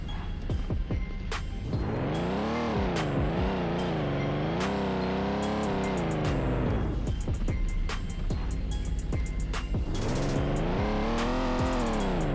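Car engine in a car parking video game revving repeatedly, rising and falling in pitch in long swells with a steady loud drone throughout, no talk.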